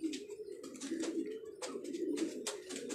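Rooftop pigeons coo in a steady, layered murmur of low throaty calls throughout, close by, with some faint higher chirps and rustling over it.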